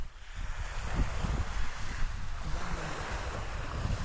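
Sea waves at high tide wash and surge continuously under blustery wind on a New Zealand shore, a steady broad rush with no talking.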